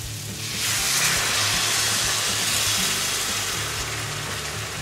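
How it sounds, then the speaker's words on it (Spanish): Boiling vegetable broth is poured into a paella pan and hits it with a broad, steady hiss and sizzle that swells within the first second and holds close and loud, with a low bubbling underneath. "sin que deje de hervir el caldo, lo incorporamos aquí"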